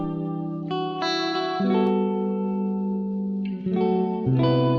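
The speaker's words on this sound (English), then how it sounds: "This is like a beautiful plate reverb." Sustained synth-like tones change chords and trail into a lush, smooth plate reverb tail that lingers between notes.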